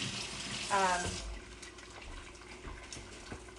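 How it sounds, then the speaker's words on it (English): Water runs from a kitchen tap while hands are washed under it, a steady close splashing hiss with brief dripping bursts, strongest at the start and then settling lower. "Wash my hands real quick."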